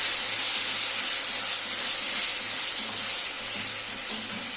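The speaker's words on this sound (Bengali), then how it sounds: "দেখো বন্ধুরা একটু জল দিয়ে নেব আমি" Water poured into a pan of sizzling onion, chili and cumin paste with salt and turmeric for a Bengali boyal fish curry, a steady loud hissing rush that holds through the clip and eases slightly at the end.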